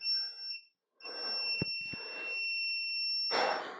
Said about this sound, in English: let this beep out